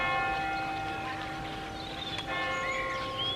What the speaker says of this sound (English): That is the 5 o'clock church bell telling me to go and set my video live.